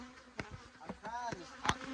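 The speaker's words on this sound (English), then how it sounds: "the bees are all the way up in there. As y'all can see, I probably made them really mad" Bees disturbed during removal from a structure buzz in short, uneven bursts as individual insects zip past close to the microphone, quiet between passes, with scraping and tapping in the background.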